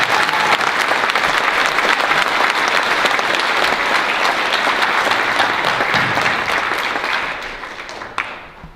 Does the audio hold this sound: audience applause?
yes